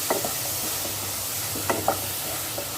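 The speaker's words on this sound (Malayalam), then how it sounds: "അതും കൂടി ഇട്ടിട്ട് നല്ലോണം വഴറ്റി കൊടുക്കണം" Chopped tomato sautéed in a pan for an okra curry, a steady soft sizzle with scattered spatula scrapes and taps against the pan.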